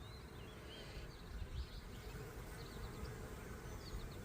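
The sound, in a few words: honeybees buzzing as they come out of the hive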